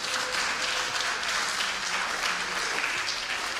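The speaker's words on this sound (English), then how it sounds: "a round of applause for the varsity soccer team" Steady, dense applause from a banquet crowd honoring a varsity soccer team at a fall athletic banquet, moderately loud and continuous, with no voices over it.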